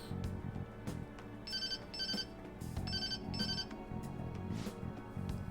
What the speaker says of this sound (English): There's that social services call I was waiting for.